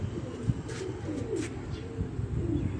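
A pigeon coos in low, soft, rolling calls repeated several times at close range over a quiet background hum, with no voices.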